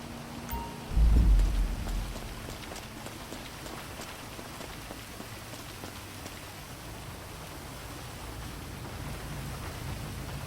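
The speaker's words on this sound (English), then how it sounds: "I do confirm it does rain every single time" Rain pours steadily in GTA V, opening with a loud, low rumble of thunder near the start, then settling into constant even hiss and patter that continues to the end.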